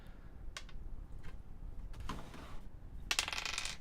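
Dice rolling for a saving throw during a tabletop role-playing game, heard as a few short clattering bursts on a hard surface, the loudest and busiest rattle coming near the end.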